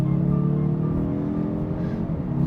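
A turbocharged 2025 Mazda3 AWD hatchback drives on back roads, its engine a steady, loud hum with harmonic drone throughout, no talking over it.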